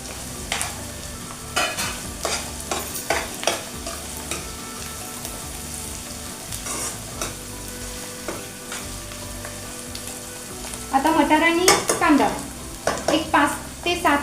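Jackfruit and peas being sautéed in a pan with chili powder and salt: a steady close sizzle with repeated scraping stirs, growing louder and busier toward the end.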